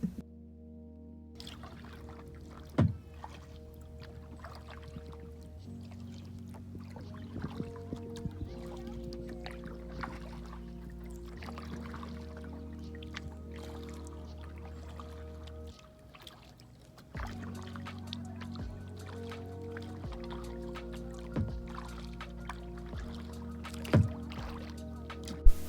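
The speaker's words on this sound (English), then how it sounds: "We also did some kayaking on Lake Warramog, and it was a calm and relaxing day." A kayak paddles across calm Lake Warramog. Quiet, irregular paddle splashes and drips come through under a steady low hum, with a few louder knocks and plops scattered through the stretch.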